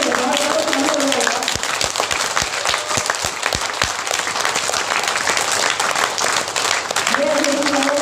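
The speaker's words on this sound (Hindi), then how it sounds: "जोरदार तालियां बजाइए मेरे लिए" Loud, dense audience applause fills a speech event at a performers' meet, continuing steadily throughout with a few sharper individual claps standing out and a voice briefly audible at the start and end.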